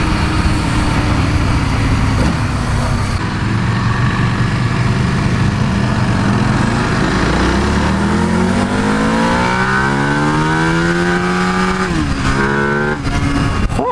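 An EBR 1190RX motorcycle accelerates hard at half throttle, its engine note climbing steadily through the revs and then shifting and rising again, loud and close throughout.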